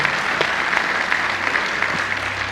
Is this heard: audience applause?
yes